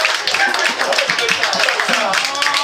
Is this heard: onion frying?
no